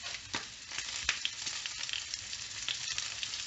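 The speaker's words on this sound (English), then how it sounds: "We're going to scramble some eggs." Eggs sizzle and crackle in hot bacon grease while being made into a bing, a steady bright hiss with scattered pops and small spits, close and moderately quiet with no talking.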